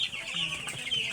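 Nine-day-old broiler chickens in a pen, a steady chorus of soft overlapping clucks and high peeps, close and continuous with no talking.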